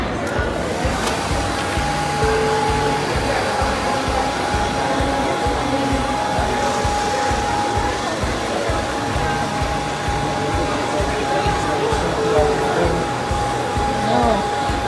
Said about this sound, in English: So I have my blow dryer here.